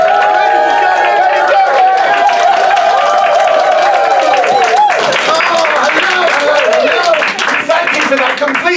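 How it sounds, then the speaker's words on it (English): Audience applause at a live comedy show, a dense, continuous wash of clapping from a crowd, loud and close, with cheering and voices rising through it. "Completely impromptu applause"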